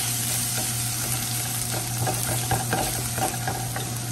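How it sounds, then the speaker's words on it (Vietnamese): Garlic powder stir-fries in a hot pan with a steady broadband sizzle and scattered scraping clicks from the stirring utensil, close and continuous, with a faint low hum beneath and no talking. "chuẩn bị mình xào nhé chảo nóng rồi cho tỏi"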